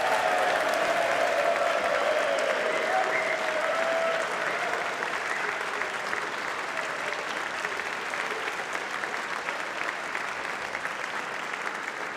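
Sustained applause from members of a House and Senate joint convention for front desk staff, a steady dense wash of clapping throughout, with a faint voice or tone early on.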